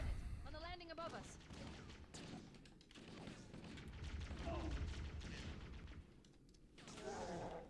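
Grenade blasts and gunfire from the shooter game Halo CE, bursts of shots and muffled explosive thumps scattered across a busy battle mix, with a voice talking over parts of it.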